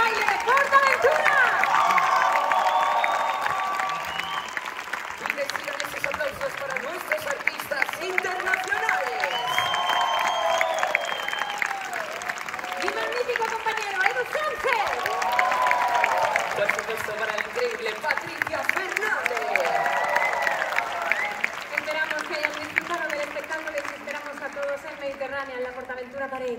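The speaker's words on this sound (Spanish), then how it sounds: "esos aplausos para el cuerpo de baile de PortAventura" An audience at the PortAventura World Dreams & The City show applauds the dance troupe with a sustained wash of clapping and some cheering, running under music with sliding melodic tones for nearly half a minute.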